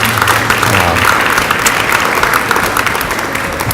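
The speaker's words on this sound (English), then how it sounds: "if I can give them a round of applause for spending the day with us here" A luncheon audience claps for the mayors at a business day event, a loud, dense, continuous round of applause filling the room without pause.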